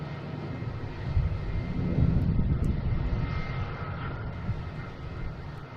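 A JetBlue airliner taxiing through the alley at Boston Logan, its engines making a close, steady roar that swells slightly midway and then holds.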